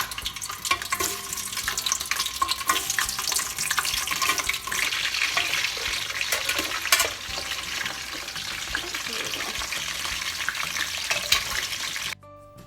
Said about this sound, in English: once our oil is heated up nicely, we're gonna start dropping this in